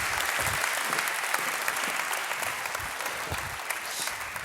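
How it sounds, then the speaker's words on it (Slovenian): A hall audience at a business awards ceremony applauds with dense, sustained clapping that fills the whole stretch at a steady level, close and enveloping, with no talking over it. "En aplavz za pogum."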